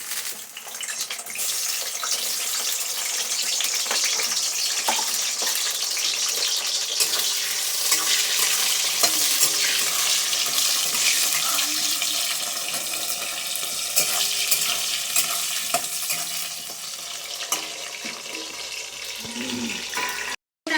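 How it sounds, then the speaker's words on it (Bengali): Mixed vegetables for Bengali shukto (brinjal, raw plantain, bitter gourd) fry in hot oil with a steady, close hiss and crackle. Occasional stirring scrapes run through twenty seconds of continuous sizzling, with no talking. "সব সবজিগুলো ভেজে নেবো"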